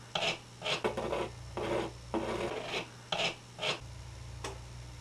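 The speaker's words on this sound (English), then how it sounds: "just take a Kleenex or something and just sort of get all the excess toothpaste off your wall" A tissue rubbing excess toothpaste off a wall after filling holes, soft rasping wipes in short repeated strokes, close and fairly quiet over a low background hum.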